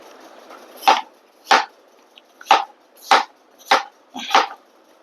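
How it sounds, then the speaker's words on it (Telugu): Six sharp knife chops on a cutting board, evenly spaced about every half second, each a crisp thud, close and alone as eggplants are cut lengthwise for a cucumber, eggplant and dried fish curry. "వంకాయలు కూడా కట్ చేస్తున్నాను."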